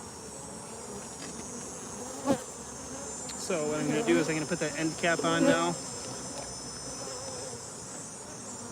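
Bees buzz steadily around an open hive during honey extraction, with wild bees in the colony; the constant insect hum is heard close up, and someone talks over it partway through.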